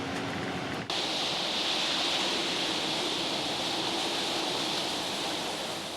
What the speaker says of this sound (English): Rough seas only make the situation worse.